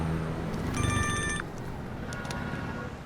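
A phone rings with a short electronic trill, a clear tone pattern lasting under a second over a busy street background, followed by fainter beeps.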